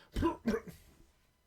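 Two sharp, close coughs in quick succession, followed by a short rasping trailing breath.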